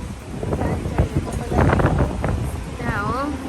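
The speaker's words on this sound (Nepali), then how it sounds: "डेन्जर हावा चलिरहेछ" A strong wind buffets the microphone on a ferry ride near Manly in Australia, with a heavy low rumble and gusts running under people talking nearby.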